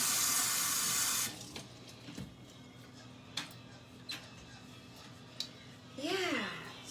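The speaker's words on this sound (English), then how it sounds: "Let me wash my hands, guys." A tap runs loudly as hands are washed, a strong steady gush of water that cuts off after about a second, followed by quiet clicks and faint handling sounds, then a brief burst of water near the end.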